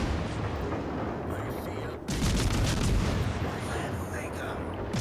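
Minotaur cruiser guns in World of Warships Legends firing rapid volleys, a dense continuous barrage of booms with a brief dip in the middle, under steady voice-over.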